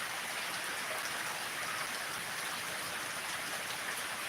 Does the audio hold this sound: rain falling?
yes